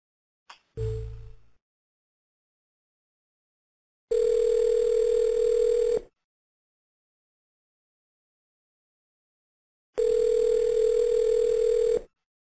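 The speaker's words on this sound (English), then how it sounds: "Jacque, we want to make one more dial" Telephone tones sound during an outbound cold sales call: a brief tone opens, then two steady, loud two-second electronic tones about six seconds apart, separated by complete silence.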